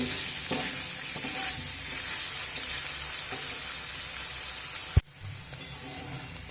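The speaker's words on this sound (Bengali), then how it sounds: "আর দেব ক্যাপসিকাম দিয়ে আবার এক থেকে দু মিনিট মতো একটু নাড়াচাড়া করে নেব" Capsicum and cabbage stir-fried for paneer chowmein, a steady close sizzle with intermittent stirring scrapes, then a sharp knock of the pan or spoon near the end followed by continued frying.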